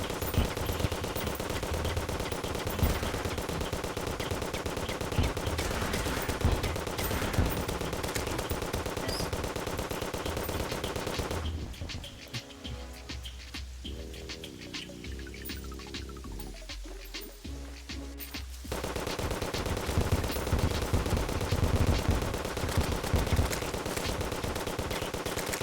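Terraria game gunfire plays as a continuous rapid stream of shots at low level, dropping out for several seconds midway while quieter game sounds continue, then resuming just as dense.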